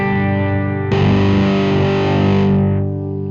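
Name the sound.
electric guitar neck pickup through DIY fuzz pedal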